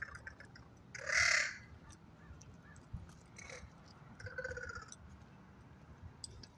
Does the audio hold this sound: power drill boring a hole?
no